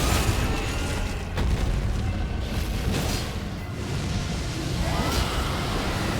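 Enemy blowing up in the Elden Ring DLC, a dense, sustained rumbling roar of explosive noise filling the whole stretch, loud and continuous with a few brighter bursts.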